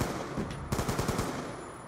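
Rapid automatic gunfire from a video game crackles in a dense, loud burst of repeated shots lasting under two seconds.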